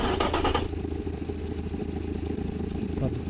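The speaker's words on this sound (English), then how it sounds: "Mufflers are coming off. Just hear it as a raw downpipe." A car engine with mufflers removed, running through a raw downpipe in Automation, gives a raw, buzzy, steady drone after a brief louder burst at the start.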